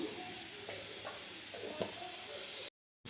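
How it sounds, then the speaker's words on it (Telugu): Masala for Andhra-style chamagadda pulusu stirred in a pan, a steady close sizzle with scattered soft scraping strokes of the spoon, then an abrupt cut to silence. "బాగా కలుపుకుందాం మసాలా పచ్చివాసన పోయే వరకు"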